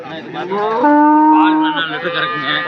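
Dairy cows at the Anthiyur cattle market let out a loud, drawn-out moo close by, with a steady tonal call over the murmur of the busy livestock market.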